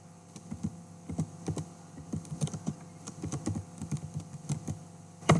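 Rapid, uneven clatter of keys on a computer keyboard as a command is typed, close and fairly quiet over a low steady hum, ending in one sharper louder keystroke.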